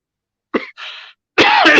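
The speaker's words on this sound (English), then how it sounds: "Excuse me, coughing again" Two short coughs a moment apart, followed by a louder, harsher burst of coughing, close and with no talking.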